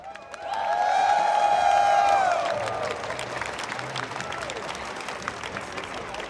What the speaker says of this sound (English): clap it up for your top 8